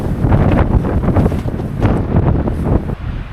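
Heavy wind buffets the microphone outdoors on a snowy winter camping trip, with continuous low rumbling gusts, loud and close, and no voices can be heard.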